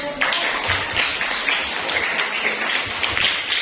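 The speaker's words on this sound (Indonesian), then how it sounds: "Tepuk tangan" Students clap their hands in a classroom after a group answers a question about democracy, a short burst of fairly close, uneven clapping that continues steadily with no talking over it.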